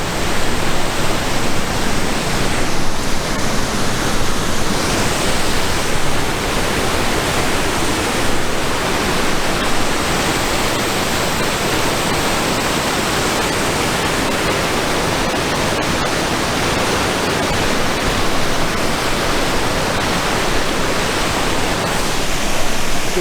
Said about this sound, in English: I'm overdosing on Waterfall here.